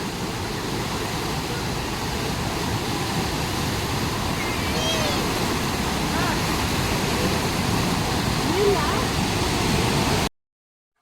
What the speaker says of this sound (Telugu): ఇక్కడ ఈ మ్యాన్ మేడ్ వేవ్స్ కొని క్రియేట్ చేశారనమాట